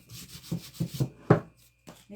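Sandpaper rubs across a wooden cutting board in a few short, close scratchy strokes, one louder than the rest, with brief gaps between.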